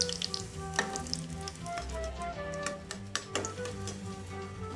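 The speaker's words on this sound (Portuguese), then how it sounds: "Então, vamos fritar um a um." Sliced-bread pastries fry one by one in a small pan of hot oil, giving a steady close sizzle with scattered crackles and pops throughout.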